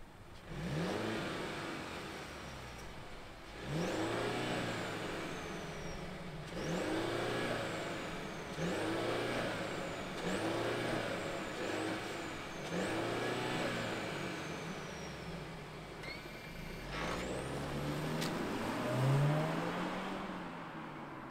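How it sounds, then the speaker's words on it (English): A 2022 Mercedes-Benz C300 engine fires up and revs repeatedly in short bursts, each rise falling back to idle, close and fairly loud. "let's fire this up and hear if there's any fake noise that comes out of those fake exhausts"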